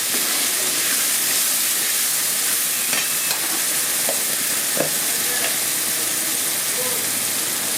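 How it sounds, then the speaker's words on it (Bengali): Spice masala for a thin Bengali-style mutton curry sizzles and hisses steadily in a pan, with a few faint scrapes and knocks of stirring over the continuous frying noise. "মশলা আমার একদম কষানো মোটামুটি কমপ্লিট হয়ে এসছে"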